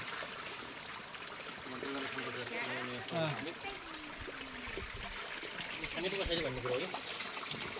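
Spring water trickles softly and continuously in the background in Dang, Nepal, while people talk over it.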